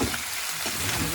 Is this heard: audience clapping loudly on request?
no